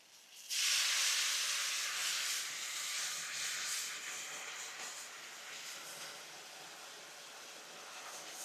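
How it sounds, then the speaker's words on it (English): Beef broth poured into a hot 5-quart Lancaster cast iron Dutch oven sets off a sudden loud hiss of steam that slowly fades into a steady, quieter sizzle, close up, with no talking. "Gonna go ahead and add some beef broth."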